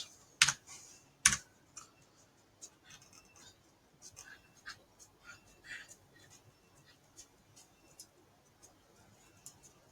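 Keys clatter on a computer keyboard while code is typed, a steady run of light, close taps after two louder opening knocks, fairly quiet and without talk.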